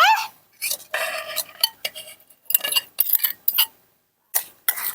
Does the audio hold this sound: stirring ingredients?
yes